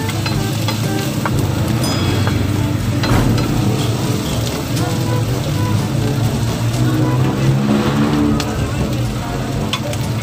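Boneless chicken feet sisig being stirred in a hot pan, a loud continuous sizzle with scraping and clinking of the utensil against the pan, steady and close throughout.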